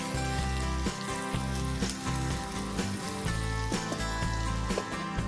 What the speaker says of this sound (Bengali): তেল গরম হয়ে গেছে, তেলের ভিতরে পেঁয়াজগুলো দিয়ে দিলাম।